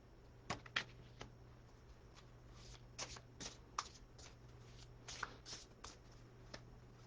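Tarot cards drawn from a deck, heard as a series of quiet, crisp card slides and flicks spaced irregularly over a faint steady hum.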